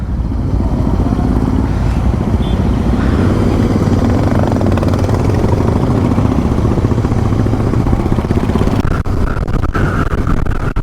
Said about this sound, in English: All the bikes are moving out.